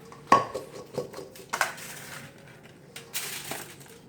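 Lamb chops being tossed with garlic powder, onion powder and seasoning in a bowl: a few sharp clinks and knocks with soft rustling shuffles between, close and fairly quiet.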